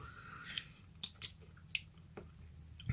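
Someone chews a lemon quarter up close, with several quiet wet squishing bites and juicy smacks spaced irregularly over a few seconds, with no talk.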